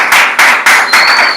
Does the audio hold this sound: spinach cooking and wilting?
no